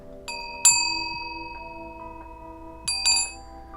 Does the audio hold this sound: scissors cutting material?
no